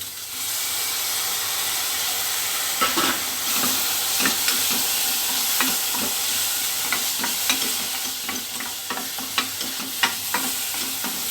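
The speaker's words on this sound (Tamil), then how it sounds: "அந்த அரிசியுமே சேர்த்து ஒரு வறுத்துக்கோங்க" Washed, soaked rice fries in a pan for a baby biryani, with a loud continuous sizzle and hiss broken by frequent scraping, clattering stirs that grow busier toward the end.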